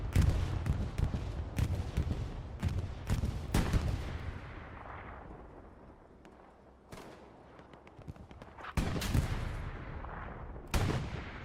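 Bombing-run explosions and gunfire in Hell Let Loose at Kharkov: a string of sharp booms and shots lands, then dies into a distant rumble before more heavy blasts burst near the end.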